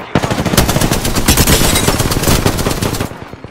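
Automatic gunfire in a video game: a dense, loud burst of rapid machine-gun shots fired in quick succession for about three seconds, close and without talk.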